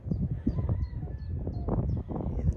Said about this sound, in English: Hear the chickens and the roosters all the way around.